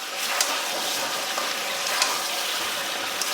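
Chicken kasha with fried onions is stirred in a pan, a soft, steady sizzle with light scraping and clinks of the spoon at close range.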